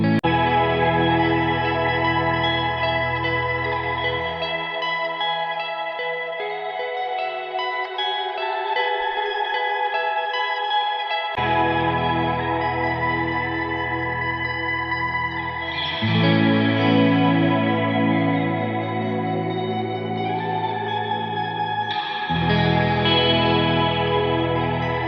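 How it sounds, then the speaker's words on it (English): Ambient guitar music drenched in chorus, echo and reverb effects plays as a full song passage, with sustained layered chords and a low droning bass that drops out and returns, continuous and loud with no voices. "You can hear in the 10th song what would become my ambient guitar sound and soundscapes through this one."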